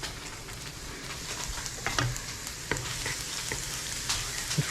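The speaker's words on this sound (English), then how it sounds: "And fry it up until browned" Minced garlic with a pinch of salt fries in olive oil for a spaghetti Bolognese, a steady soft sizzle with occasional stirring scrapes and light clicks of a utensil, no voices.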